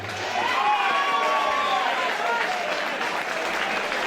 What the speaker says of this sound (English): A big round of applause, please, for Gazim Nikaj.